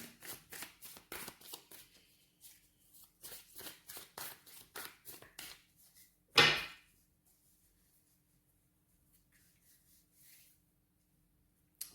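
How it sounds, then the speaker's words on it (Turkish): Tarot cards handled and shuffled while a card is picked, a rapid run of soft flicks and riffles, then one sharp slap of a card and near silence afterward. "Buraya Rumi'den de bir kart seçmek istiyorum."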